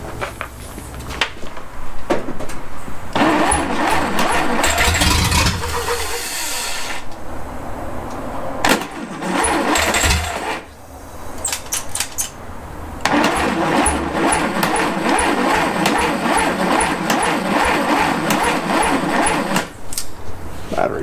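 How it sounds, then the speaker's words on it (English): A 1948 Dodge sedan engine after a rebuild cranks on starting fluid, with long loud bursts of churning starter and engine noise broken by short pauses. Faint talk comes through in places. "I'm going to hit it with a little starting fluid because it's taking a minute for that gas to get up here."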